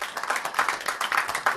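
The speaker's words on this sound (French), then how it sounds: "un tonnerre d'applaudissements pour monsieur David Chailloux" A lecture audience at the Napoleon Festival claps steadily and densely to welcome a speaker at a talk on Napoleon and opera.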